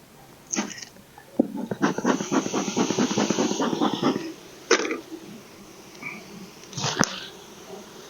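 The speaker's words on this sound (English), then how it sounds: "Let me give these bees some smoke." A beekeeping smoker puffing smoke onto bees, giving breathy hissing puffs, then a run of rapid rhythmic bellows pumps lasting a couple of seconds, followed by a few more isolated puffs, close by.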